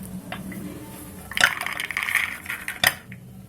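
Roasted peanuts are taken out of a cooking pan with a metal utensil, producing a few scattered clinks and scrapes, with two sharper knocks against the pan over quiet kitchen background.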